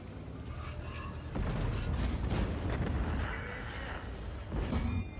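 Heavy tank gun fire in the online game World of Tanks, with a loud booming blast and a rumbling mechanical roar that swells twice over a continuous game soundscape.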